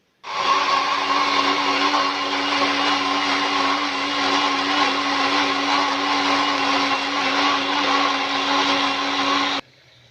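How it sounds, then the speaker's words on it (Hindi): A blender whirs steadily while grinding mustard greens for sarson ka saag in a small jug, a loud continuous motor drone running unbroken for about nine seconds before it cuts off abruptly. "इसलिए इस छोटे से जग में भी मैं इसको ग्राइंड कर लूँगी"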